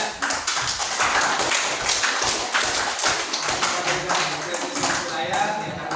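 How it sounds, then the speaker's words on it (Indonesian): A classroom group claps steadily for a father after his correct answer, a dense patter of hands sustained throughout at moderate level, with voices mixed in. "Oke, tepuk tangan untuk Ayah ya."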